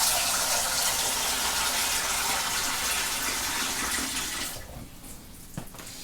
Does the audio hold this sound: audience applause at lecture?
no